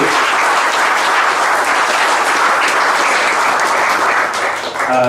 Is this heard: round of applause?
yes